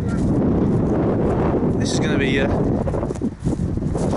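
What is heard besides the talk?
strong wind blowing at coastal WW2 bunkers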